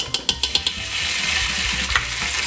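Garlic, ginger and fenugreek seeds drop into hot oil in a pan, giving a few sharp spattering pops and then a steady, close sizzle.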